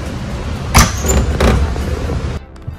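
Inside a moving car, a steady road rumble and engine hum carries under a few brief bumps and rustles, then the noise drops sharply near the end.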